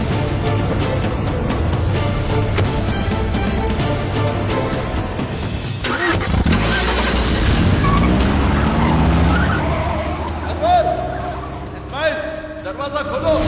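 A car pulls away with tires skidding and squealing, engine roaring loudly for several seconds under background music and voices, then fading as people speak.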